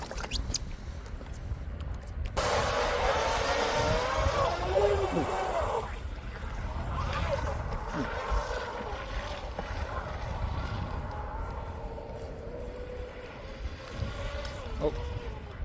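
Small RC F1 powerboats, inboard and outboard, buzz steadily across water while racing, a continuous high-pitched whine with wind noise and occasional voices underneath.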